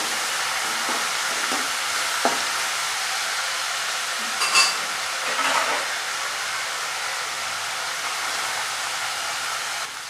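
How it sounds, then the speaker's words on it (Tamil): Dried red chilies and mustard seeds frying in hot oil in a pan with a steady hiss, stirred with a few soft scraping knocks and a brief louder clatter midway; no talking. "சேர்த்து நல்லா கிண்டி விட்டுக்குவோம்"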